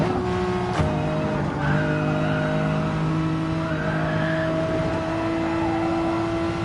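A Mercedes GT3 racing car engine roars steadily throughout, its pitch rising and falling, with tyres squealing in long drawn-out screeches.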